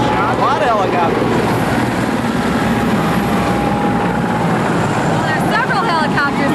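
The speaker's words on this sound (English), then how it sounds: "In fact, it's a helicopter." Four military Marine helicopters fly overhead at a 1987 presidential visit in West Bend, a steady broad rotor drone under the noise of a crowd, with voices talking throughout.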